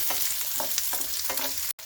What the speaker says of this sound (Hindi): इसमें हम डालेंगे 1 बड़ी प्याज इस तरह से कटी हुई, और इसको हम मिक्स कर लेते हैं अच्छे से